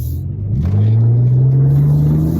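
A Mitsubishi Galant 2.5 V6 engine accelerates hard, its loud, close rumble climbing steadily in pitch over a couple of seconds, with no voices.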